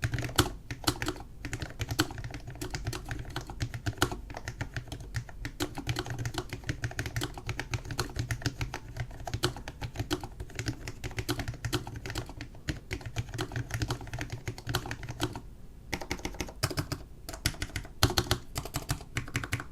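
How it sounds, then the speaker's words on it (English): Steady, continuous typing on a Cooler Master SK621 compact low-profile mechanical keyboard, with dense, rapid key clacks running throughout and a brief pause near the end, heard alone and close. "this is a sound test of the SK621 Super Tiny keyboard"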